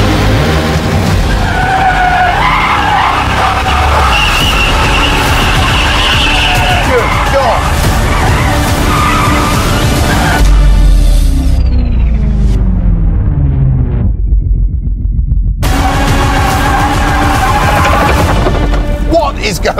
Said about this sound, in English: Four-wheel drive, no traction control, all wheels spinning.